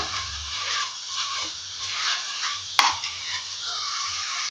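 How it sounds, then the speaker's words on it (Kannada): Ginger garlic paste frying in a pan for a spiny gourd curry, a steady close sizzle with soft scraping and stirring throughout and one sharp clink of a utensil against the pan partway through. "ಶುಂಠಿ ಬೆಳ್ಳುಳ್ಳಿ ಪೇಸ್ಟನ್ನು ಹಾಕ್ಕೊಂಡು 1 ನಿಮಿಷ ಫ್ರೈ ಮಾಡ್ಕೊಳ್ತೀನಿ"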